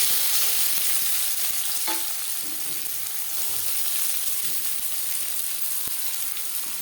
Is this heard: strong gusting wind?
no